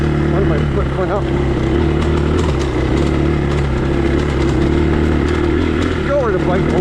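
Motorcycle engine under load during an off-road ride, a loud continuous droning roar with wind buffeting throughout.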